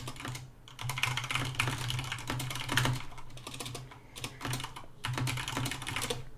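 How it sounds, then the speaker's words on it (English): Fingers type steadily on a computer keyboard, a close, busy stream of key clicks with short pauses between bursts, while a low hum runs underneath. "as I'm about to type in Discord"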